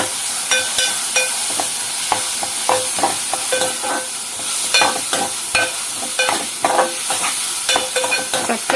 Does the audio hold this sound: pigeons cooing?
no